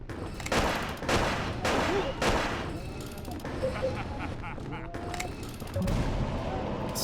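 Henry fires a gun in a Silent Hill boss fight, with several sharp shots in uneven bursts over continuous game noise and some talk.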